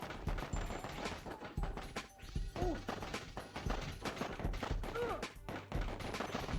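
Dense gunfire and crashing impacts from the PSP game Death Jr., loud and nearly continuous throughout, with a voice talking over it in places.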